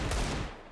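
Gunfire during a competitive Counter-Strike match in an ESEA Advanced league game, a short, loud burst of rapid shots that fades out quickly.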